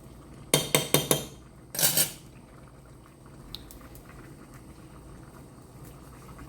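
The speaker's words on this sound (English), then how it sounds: "We're just going to give that a stir." A utensil stirs a dollop of vegan butter in a pan. Four quick sharp clinks and a short scraping rattle sound close by, then give way to a faint, soft sizzle.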